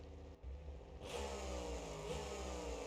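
A simulated car engine in BeamNG.drive hums with a low, steady harmonic drone that swells louder after a brief dip and then holds a strong, continuous revving tone, with no voices.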